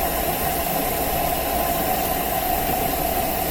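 Steady mechanical hum and whir of an LG WM3600HWA front-load washing machine running its wash cycle, a constant droning tone with faint rumble and no breaks.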